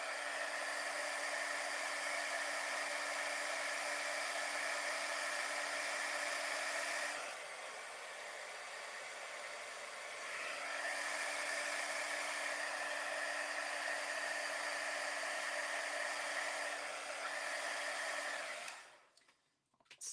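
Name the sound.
heat embossing gun blowing hot air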